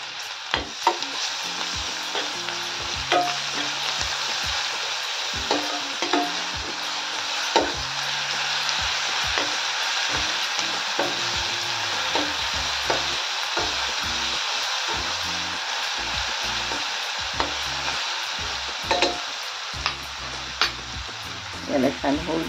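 Garlic, green chili and coriander-stem paste sizzling in hot oil with onions for a rustic Maharashtrian green chickpea curry, a steady close frying hiss with occasional spoon knocks and scrapes.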